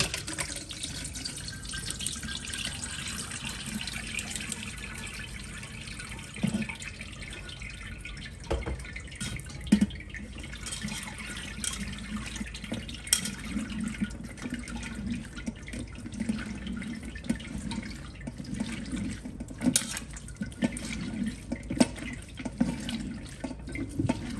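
Homemade lemonade straining through a cloth over a container, liquid trickling and dripping steadily and close for the whole stretch, with no talking.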